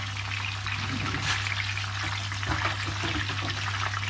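Stuffed mackerel frying in oil gives off a steady, soft sizzle and crackle over a constant low hum, with a few slightly louder spits.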